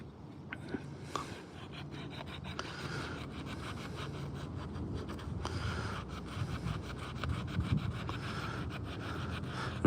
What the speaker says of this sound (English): So we'll just keep right on sanding for about another few minutes